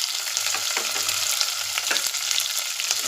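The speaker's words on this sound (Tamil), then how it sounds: "இதை நல்லா வதக்கிக்கோங்க" Small onions, garlic and curry leaves sautéing in hot oil for a fish curry, a steady close sizzle broken by several soft stirring scrapes.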